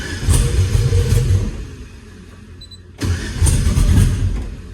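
An LS-swapped car engine cranks with loud rhythmic churning, dies off into a quieter lull, then cranks again and catches in a rough burst of engine noise.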